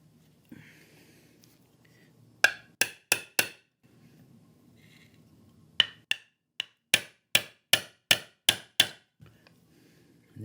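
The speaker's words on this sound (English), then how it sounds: "So a few taps, we get them in there." Small magnets are tapped into hard maple knucklebones game pieces with a hammer: a close, sharp run of four quick taps, a pause, then a longer series of about eight crisp, evenly spaced taps.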